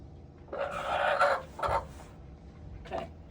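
Hens in a farm coop give a few close, agitated clucks and squawks in short bursts separated by brief pauses.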